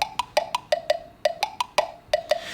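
Orchestral mallets clicked together with no effects, giving about a dozen sharp, dry wooden clacks in an uneven rhythm, close and clear against near silence.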